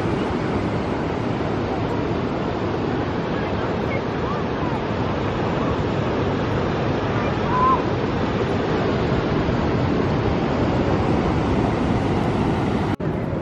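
Steady surf rumbles and washes continuously in the background at Santa Monica beach by the pier, fairly even in level, with faint voices now and then and a sharp click near the end.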